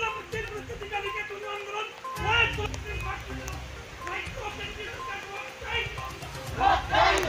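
A crowd of protesters at a demonstration in Silchar, Assam, against soaring prices of essentials and fuel, chanting slogans in loud overlapping waves with a brief lull partway through.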